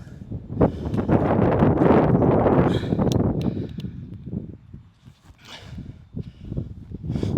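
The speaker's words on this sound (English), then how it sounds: "It's windy out." Heavy wind buffets the microphone in loud, rumbling gusts that ease off and then return, with no clear talking.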